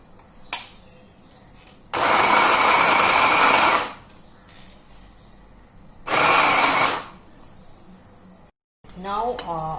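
A kitchen mixer grinds green chili on pulse mode in two loud bursts of about two seconds each, separated by quieter clatter and handling noise.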